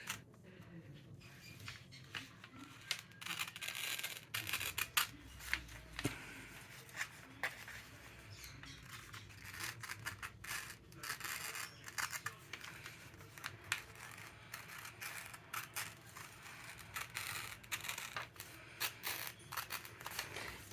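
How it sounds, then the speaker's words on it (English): Scissors cut through wrapping paper for a handmade Christmas card, a quiet, close run of crisp irregular snips and paper rustles repeating steadily throughout. "So I'll just cut straight along the line."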